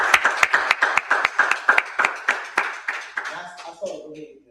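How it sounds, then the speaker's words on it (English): Short round of hand clapping at a District 2 town hall meeting, a few people clapping in a brisk steady rhythm that thins out and stops after about four seconds, followed by a faint voice. "Can we give an applause to Jim for coming?"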